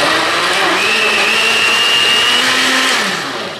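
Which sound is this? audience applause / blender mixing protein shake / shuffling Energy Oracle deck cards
blender mixing protein shake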